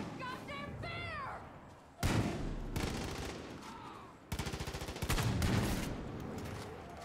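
Video game gunfire during a bear hunt, with heavy bursts of shots and loud thuds after a stretch of talk, followed by a second rapid volley of shots under continuing voices.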